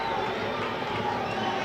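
Stadium crowd at a Charlotte FC Academy soccer match reacting to a referee's yellow card, a steady broad murmur and roar sustained throughout, with a voice talking over it.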